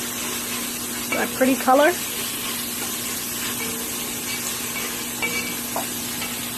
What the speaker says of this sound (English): I'm going to add in my dry seasonings. And I'm going to stir that around.